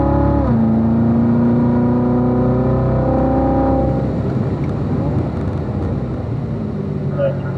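Race car on a circuit accelerating out of a left-hand turn, its engine pitch climbing steadily, then dropping sharply as it shifts up into fifth gear before rising again, loud and close throughout.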